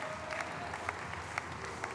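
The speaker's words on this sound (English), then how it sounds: "A round of applause, please." Steady applause from a crowd at a men's 10m diving final, heard at a distance, a continuous patter of many hands clapping with a few sharper claps standing out.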